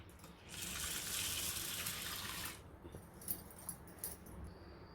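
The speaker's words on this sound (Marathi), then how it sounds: "आता पाणी घालते" Water poured from a tap or jug onto a washed mix of lentils and rice, a steady close gush for about two seconds that then stops, followed by faint clinks and handling noises.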